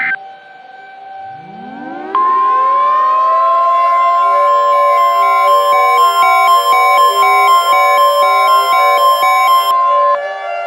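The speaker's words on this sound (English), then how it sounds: "sirens sound like a nightmare" Civil defense tornado warning sirens wail loudly, one rising from a low growl to a sustained pitch as others join, forming a layered, steady chorus of tones that holds for several seconds.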